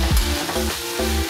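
Potatoes and pointed gourd sauté with spices in a pan, a steady close sizzle with a few scraping stirs of the spoon through the short stretch.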